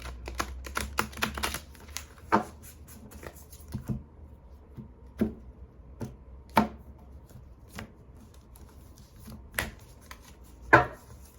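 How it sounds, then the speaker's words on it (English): Large tarot cards shuffled by hand up close: a dense flurry of crisp papery snaps and taps for the first couple of seconds, then sparser, irregular clicks and flicks, with no talking. "go ahead and give this a shuffle"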